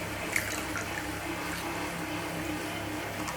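Washed makeup sponges squeezed out over water, giving a steady wet splashing and trickling wash that runs evenly for a few seconds, close up and alone.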